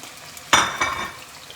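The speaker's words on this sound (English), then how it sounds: "We're going to let those sear up." Scallops hit a hot pan for searing, setting off a sudden loud sizzle that flares, swells again briefly, then settles into a quieter hiss with a faint utensil clink.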